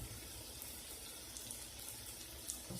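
Tap water runs steadily while an oven dish is washed, a soft continuous splash with a few faint clinks, close but quiet and with no talk.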